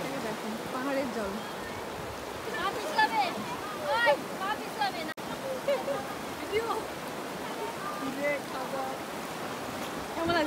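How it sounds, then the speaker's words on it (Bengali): The Torsa river stream in Bhutan's hills sends a constant broad rush of flowing water, with people talking over it throughout. "স্রোতের শব্দ এত সুন্দর।"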